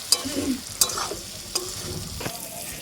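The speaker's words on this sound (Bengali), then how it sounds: "এরকম নাড়তে নাড়তে কিন্তু আমার বাকি আমলকিটা পুরোপুরি সিদ্ধ হয়ে যাবে" Amla (Indian gooseberries) being stirred in a hot pan, with a few sharp scrapes of the spoon against the pan over a soft sizzle of frying; close and clear, no talking.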